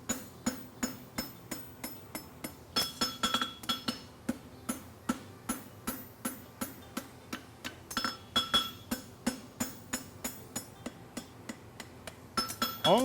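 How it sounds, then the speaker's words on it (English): A blacksmith's hammer strikes a hind horseshoe on an anvil at a world championship forging event. The blows come in a steady run of sharp ringing metallic strikes, with occasional quick double hits. They are close and clear, with no talk. "my hammer's just gonna slowly gain speed on the angle and then come around the"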